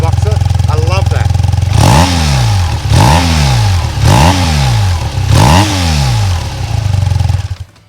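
BMW R12nineT 1200cc boxer motorcycle engine idling, then revved four times in quick succession, each blip rising sharply and falling back to a lumpy idle, loud and close.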